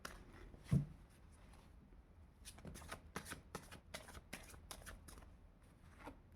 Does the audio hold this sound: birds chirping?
no